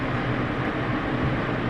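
Electric fan running in an apartment kitchen during tart baking, a loud steady broadband whoosh with a low hum, continuous throughout and no talk.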